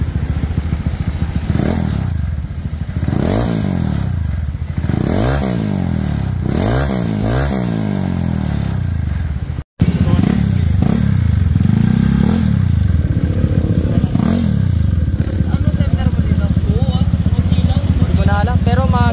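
A Honda Click 200cc scooter with a converted exhaust revs in repeated rising and falling bursts up close, the engine note loud and full, with a brief cut midway before steady idling and further revs under occasional talk.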